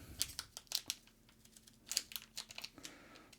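Crinkly plastic packaging on a Magic: The Gathering Avatar Commander bundle card pack crackles and snips in sharp, irregular bursts as it is cut open, close and fairly quiet, with no talking.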